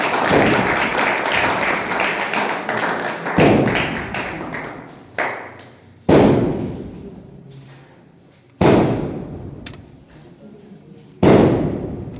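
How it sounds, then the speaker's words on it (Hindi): Church congregation applauding at a Christmas Eve night service, with loud bursts of clapping that start abruptly several times and fade between rounds, filling the room broadly. "एक बार फिर चर्च में तालियों के साथ, जोर से तालियां बजाएं"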